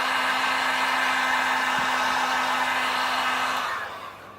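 A heat gun blows steadily on a Samsung J7 phone to soften the screen for removal, a constant close whooshing roar with a low hum that cuts off near the end.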